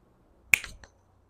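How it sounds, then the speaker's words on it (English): A single crisp finger snap, close and sharp against near silence, followed by a brief faint echo of the click. "I'm going to snap my fingers"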